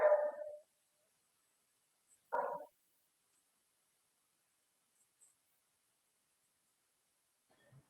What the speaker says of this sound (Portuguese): cachorro tá latindo aí,